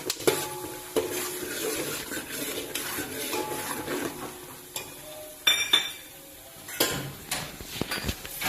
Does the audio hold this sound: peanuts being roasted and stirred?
yes